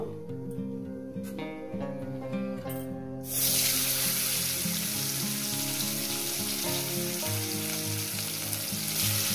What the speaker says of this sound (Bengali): টমেটোটাকে দিয়ে দিয়ে একটু কয়েক মিনিট ভেজে নেব